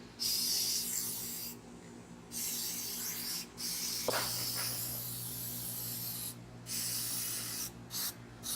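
Several close hissing bursts of spray paint from an aerosol can, each lasting a second or more, separated by brief silences.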